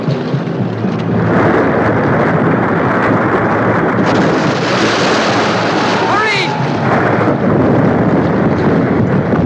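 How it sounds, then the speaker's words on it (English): A sustained loud roaring blast that fills the clip, a continuous rumbling burst like an explosion with no pauses. "Explosion."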